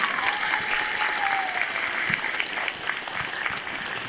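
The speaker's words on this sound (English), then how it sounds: "So let's give them a round of applause" Steady, sustained applause from an audience of students, parents and coaches at a youth basketball camp, moderately close and continuous without talk.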